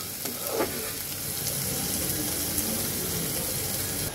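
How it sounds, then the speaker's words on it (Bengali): Onion and green chilli fry in a pan for a bottle gourd dish, giving a steady, close, loud sizzle that holds evenly throughout, with no talking. "এবার একটু ভেজে নেব পেঁয়াজটাকে"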